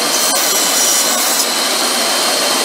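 A belt grinder running an old, worn 120 grit belt against steel to strip mill scale, a loud, continuous, harsh abrasive roar held steadily at close range.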